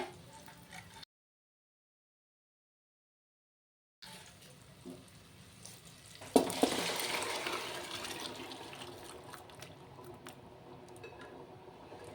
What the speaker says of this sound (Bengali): এখন আমি মটরটা ঢেলে দেব, সেদ্ধ করে রাখা মটরটা।